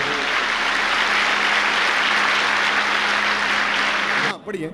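A church congregation claps together during a Hindi-Punjabi sermon, producing dense, loud, sustained applause that cuts off abruptly just before the end.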